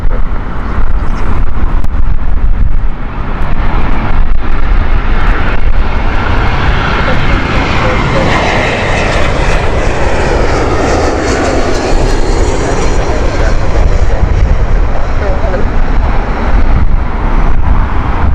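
A nine-year-old Airbus A320-200 airliner from 2014 at Heathrow Airport, a loud, continuous jet engine roar that swells and shifts in pitch as the aircraft passes, with strong wind buffeting on the microphone.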